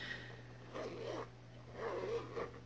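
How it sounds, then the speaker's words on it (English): A zipper on a vintage 1970s Gucci bag slides in two smooth, soft runs, a brief pull early and a longer one later, faint and close over a steady low hum. "vintage Gucci from the 70s has the cleanest little zipper"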